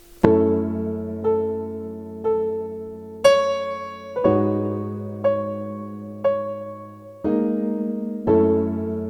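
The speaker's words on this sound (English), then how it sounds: "And then I added a piano from Roland JV." A Roland JV piano on the 128 voice piano preset plays a slow chord progression for a 70s soul sample. Each struck chord rings and decays before the next, evenly spaced about once a second, clear and unaccompanied.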